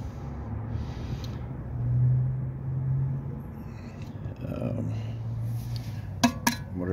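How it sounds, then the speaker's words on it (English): A CV axle on a 1997 Lexus ES300 seats into the drive hub with two sharp metallic clunks close together near the end, following a stretch of low rumbling shop noise. "you can hear it clunk when it hits bottom"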